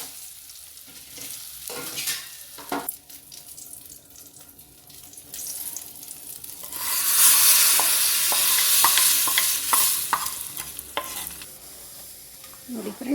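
Curry leaves sizzle in hot oil as a rasam tempering, a loud bright hiss that swells in midway and holds steady, preceded by a few clinks and stirring scrapes, with no talk.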